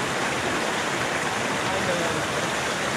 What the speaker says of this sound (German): Jetzt hier mitten im Dschungel so ein Wasserfall.